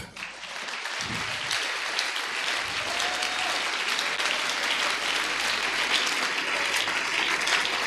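A church congregation bursts into sustained, dense applause and clapping that fills the space, loud and steady throughout, with faint low rumble beneath and no talk.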